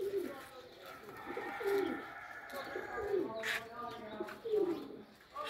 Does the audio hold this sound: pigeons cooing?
yes